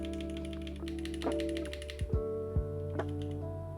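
A few sharp key clicks from an Epomaker TK68 mechanical keyboard's function keys over a steady electronic hum, spaced irregularly near the end.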